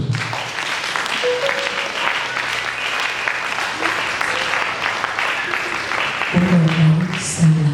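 A church congregation at an evening revival seminar applauds for Jesus, sustained clapping from a crowd with a voice heard over it toward the end.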